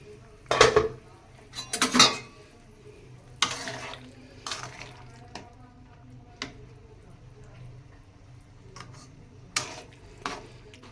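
Metal clatter of a cooking pot lid being lifted off a simmering tilapia and vegetable curry, a few sharp clanks and scrapes spaced apart over a faint low background hum.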